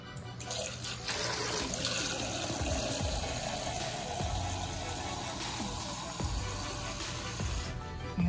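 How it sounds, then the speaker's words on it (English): Water poured from a tap into a hot, sizzling pan for gravy with Salisbury steak, a steady broadband rush and splash running the whole time with no talk over it. "I'm gonna use the rest of this and I'm gonna add some more water."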